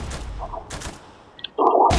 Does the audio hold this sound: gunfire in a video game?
yes